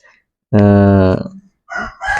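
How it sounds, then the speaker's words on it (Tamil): A single loud, harmonic call from a live turkey lasting about half a second, followed by voices speaking nearby. "இதுதான் வான்கோழி உயிரோடு தான் இருக்குது"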